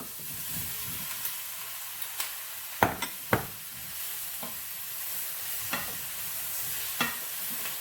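Capsicum stir-fries with garlic in a pan for Chicken Manchurian, a steady sizzle and hiss broken by sharp scraping clicks of a spatula stirring, close and moderately loud.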